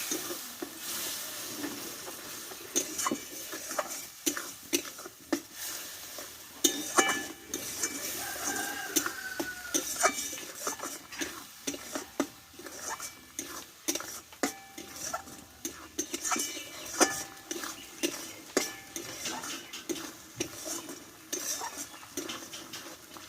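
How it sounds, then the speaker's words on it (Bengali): Coconut paste and coconut milk with spices are stir-fried in a pan for a Bengali-style eggplant dish, with a continuous sizzle broken by repeated spoon scrapes and clinks against the metal pan, close and with no talking. "নারকেলের দুধকে দেওয়ার পরে ভালোভাবে আমি একটু কষে নেবো"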